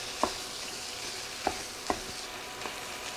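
Browned ground beef stirred in a frying pan for a cowboy tater tot casserole, a soft steady sizzle with a few sharp scrapes of the spoon at irregular intervals, close and fairly quiet.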